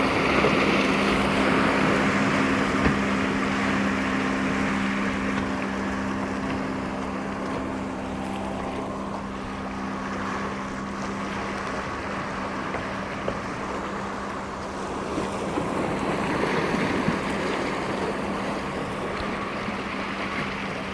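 Motorboats passing on open water, a steady engine hum under washing waves and gusty wind noise, swelling and fading slightly as the boats go by.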